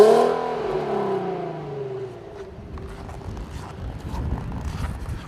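A 2014 Infiniti Q60 coupe with AWD climbs a snowy mountain road, its engine rising in pitch as it accelerates, then fading into a steady, muted drone under road and wind noise.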